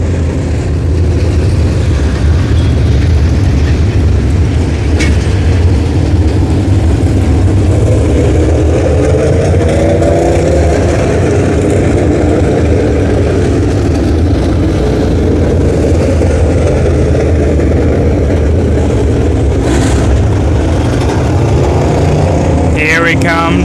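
Hornet class race cars roar around the dirt oval at Brownstown Speedway, a steady loud engine drone throughout with a pass swelling near the end, under crowd noise and an announcer talking.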